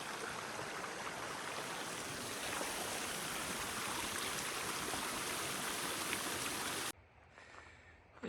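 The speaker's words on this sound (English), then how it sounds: "Tons of super pretty waterfalls." Constant rushing water of a waterfall and stream in the Grand Canyon, a dense steady roar that suddenly drops off near the end.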